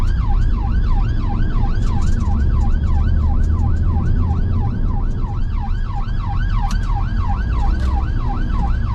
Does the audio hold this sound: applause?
no